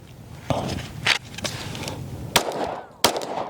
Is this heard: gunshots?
yes